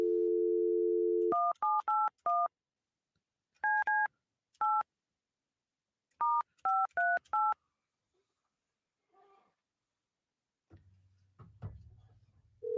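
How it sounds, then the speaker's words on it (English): A telephone dial tone gives way to a series of clear dialing beeps in uneven bursts of two to four as a number is entered, then a pause and faint ringing or line noise near the end. "Now I have to find Jamie's number."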